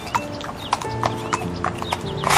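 A king's horse gallops through a forest in a Hindi cartoon, its hooves beating out a steady, close clip-clop rhythm over a faint layer of background music.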